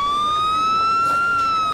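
In the video game Emergency 4 with a Los Angeles mod, a police car siren wails steadily, a loud single rising tone holding nearly constant pitch for a couple of seconds.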